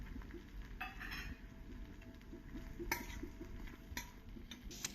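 Carrots and green peas being added to a pot of jowar (sorghum) pulao, heard as a few light, scattered clinks and taps against the cookware over a quiet kitchen background.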